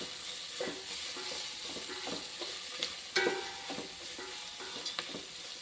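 Onions sauté in a pan over a medium flame, a soft continuous sizzle broken by repeated stirring taps and scrapes of a spoon, one louder knock midway.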